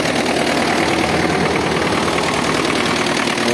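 A DT-75 tractor engine idling steadily, cold and just started, a close, loud, even chugging drone with a faint rattling vibration throughout.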